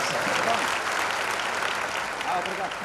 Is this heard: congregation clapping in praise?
yes